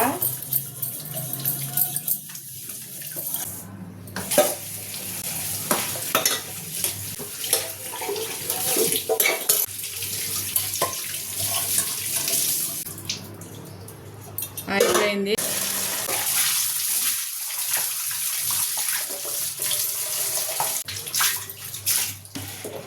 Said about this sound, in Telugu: గిన్నెలో కడిగేశాను సింక్ అంతా కూడా కడిగేశాను